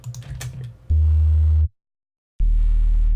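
Deep sustained sub bass sine tone from a music production, played in two long held notes separated by a short silence, loud and steady with little upper content, after a brief burst of other sound at the start.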